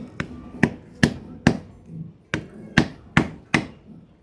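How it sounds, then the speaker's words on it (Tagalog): A rubber mallet strikes a motorcycle telescopic shock tube on a Honda Click, eight sharp, loud blows at a steady rhythm of roughly two per second, each with a short ringing tail, and no talking. "Tapos paluin nyo ng rubber mallet."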